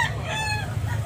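A three-year-old gamefowl rooster crows and clucks close by, the call sustained across the moment over a steady low rumble of background noise.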